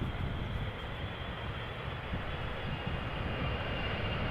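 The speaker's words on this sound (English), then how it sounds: "777 already landing." A Boeing 777 lands at Amsterdam Schiphol with a loud, steady jet engine roar throughout, dense low rumble and no speech.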